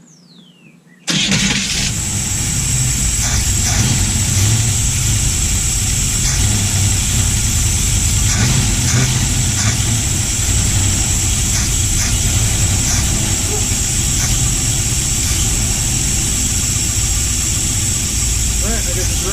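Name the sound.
Vantini engine started and running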